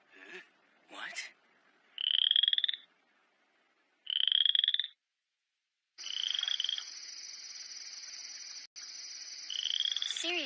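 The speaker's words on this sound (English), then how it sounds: "You could start by catching that frog" Frog croaking in an animated episode: a few short rough calls, then sustained trilling bursts that grow into a long steady drone, loud and close with no talk over it.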